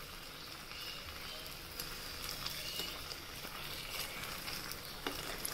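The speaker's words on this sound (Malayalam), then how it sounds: "ഇനി നമ്മുടെ വെളിച്ചെണ്ണ ചൂടായതിന് ശേഷം ഓരോ ഉരുളയായിട്ട് നമുക്ക് ഫ്രൈ ചെയ്യാം." Gulab jamun balls fry in hot coconut oil with a steady, soft sizzling and faint crackling pops, continuous and fairly quiet throughout.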